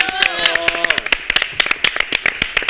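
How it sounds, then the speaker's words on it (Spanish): Audience clapping during a Spanish-language interview, a sparse, uneven patter of distinct hand claps close by, with a voice speaking at the start before the claps continue alone. "Un aplauso. ¡Bravo!"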